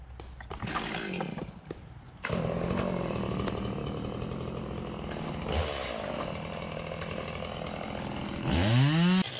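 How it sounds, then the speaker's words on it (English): A chainsaw roars nearby, revving and cutting steadily through a tree trunk, with a brief lull and then a rising high-pitched rev near the end. "he's trading out chainsaws again."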